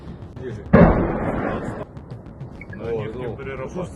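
A single loud, booming explosion in Kyiv hits sharply and rumbles off, followed by quieter background noise and a voice talking.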